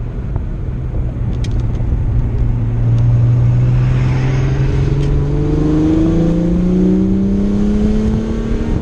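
A Nissan 300ZX engine fitted with a PVC pipe intake revs up loud and near, its droning note climbing steadily in pitch as it accelerates.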